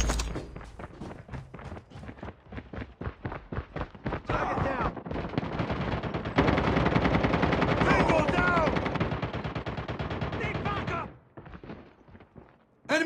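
Gunfire in a video game firefight, rapid automatic bursts and single shots close and loud, building into sustained firing before it stops, mixed with shouted voice callouts.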